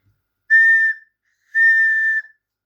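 A Trypillian-style clay bull figurine whistle gives two clear, bright, steady blows, each under a second long, with a short pause between them.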